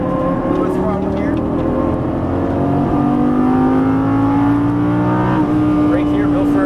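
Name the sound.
Lamborghini Gallardo LP550-2 engine revving, upshifting and braking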